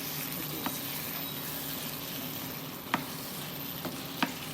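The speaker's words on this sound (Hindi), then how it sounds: "जब इसमें अब मैं थोड़ा सा इसको चलाते रहें, मसाला मिलाते रहें तो अच्छा बनता है इसमें।" Vegetables fry steadily in a pan with turmeric masala as a spoon stirs them, giving a constant soft sizzle broken by a few sharp scrapes and taps.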